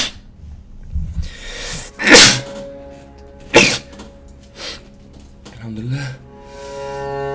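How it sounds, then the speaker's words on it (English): A person's sneeze bursts out sharply once, followed by a second sneeze a little over a second later, close and loud against a quiet indoor background with soft breathy sounds around them. "I wanna sneeze."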